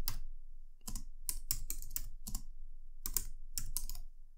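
Someone types on a computer keyboard in short bursts of crisp, close keystrokes separated by brief pauses.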